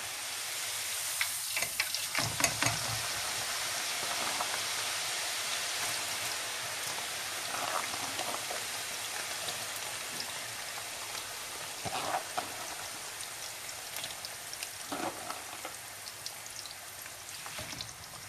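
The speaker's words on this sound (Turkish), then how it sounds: "Arkadaşlar patateslerimizi kızgın yağımızın içine atıyoruz." Potatoes fry in hot oil in a pan, giving a soft, steady crackling sizzle with occasional louder spatters and bursts, fairly faint and without talk.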